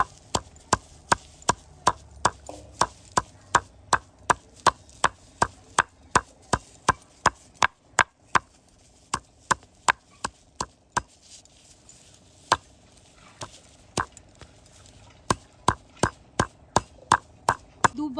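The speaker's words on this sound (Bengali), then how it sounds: "এবারে যেটা করতে হবে, এই দূর্বা ঘাসটা ভালো করে থেঁতো করে নিতে হবে।" Freshly washed durba grass being pounded and crushed: a long series of sharp, regular thudding strikes, close and clear, with a few short pauses between the runs of blows.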